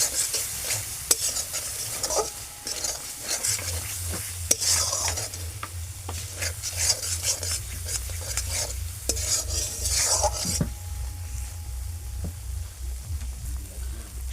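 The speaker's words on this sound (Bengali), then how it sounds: "এবার এটা মশলাটা আমি আবার ভালোভাবে একটু এর সাথে মিশিয়ে দেবো।" A spice masala with ground coriander is stirred in a hot pan, repeated scraping strokes of a spoon over a low, steady sizzle, with occasional clinks of metal, close and without talk.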